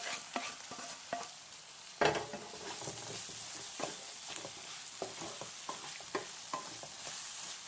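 Chicken in coconut oil sizzles in a pan while being stirred, with steady frying crackle and repeated scraping and clinks of the spoon against the pan, close and alone.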